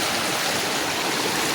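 A small waterfall stream in a forest flows steadily with cold water, a dense continuous rushing and splashing close by, heard alone with no talking.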